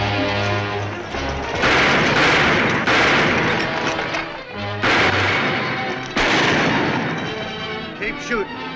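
Heavy gunfire in a Western shootout, with loud booming shots in clustered bursts, some overlapping in rapid succession, and brief pauses between volleys.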